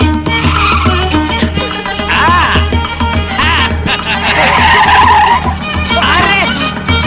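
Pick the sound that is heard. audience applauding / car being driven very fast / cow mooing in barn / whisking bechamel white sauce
car being driven very fast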